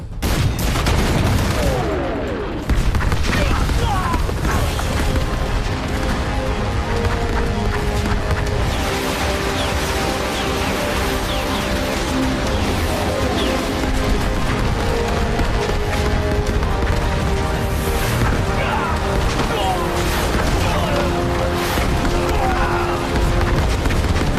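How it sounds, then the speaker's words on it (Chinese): An artillery barrage, including rocket artillery, pounds a Chinese volunteer army night ambush at a tunnel position in a war film. Gunfire and explosions form a dense, loud, continuous roar for the whole stretch. "原射击助援不变，再来一轮火力覆盖。"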